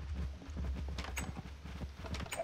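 Horses clip-clopping in the Minecraft video game, a quiet run of irregular hoof clops close by over a low steady hum.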